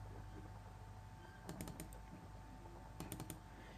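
A file name is typed on a computer keyboard as two short bursts of a few quick key taps, faint over a steady electronic hum.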